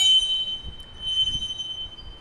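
A train passes at a distance, heard as a faint, low rumble under a steady, thin high-pitched wheel squeal over a couple of seconds.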